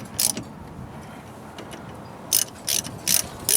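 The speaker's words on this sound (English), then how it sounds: "So grab my socket wrench here and my 12 millimeter, and I go ahead and tighten that down." Socket wrench ratcheting as a 12 mm bolt is tightened on a 2004 Jeep Liberty front wheel hub, giving a few short bursts of clicks, one early and a cluster of three or four near the end, close and fairly loud.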